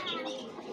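Pigeons coo softly in a brief, faint moment, a low murmuring call heard at a distance.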